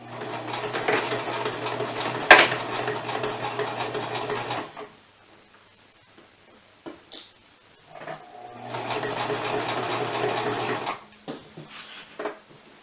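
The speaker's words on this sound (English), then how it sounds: "Turn my machine on, and I'm just going to stitch all the way down." A sewing machine stitches down a cinch-skirt seam in activewear or swim fabric, running steadily in two close, loud bursts of about four and two seconds separated by a quiet pause with light handling clicks.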